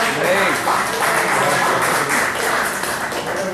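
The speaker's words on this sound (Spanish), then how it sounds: "¿Cuántos pueden dar un aplauso a Jesús?" A church congregation claps in a sustained, dense round of applause filling the room, loud and continuous throughout, with some voices mixed into the crowd noise.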